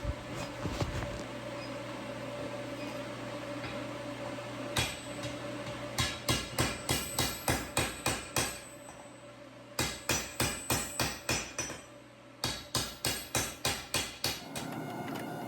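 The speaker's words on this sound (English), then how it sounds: "the induction forge proved to be pretty handy forging in the bevels" A hammer forges bevels into a Viking sword billet heated in an induction forge, sharp ringing blows in quick rhythmic bursts of about six to eight strikes, separated by short pauses over a steady hum.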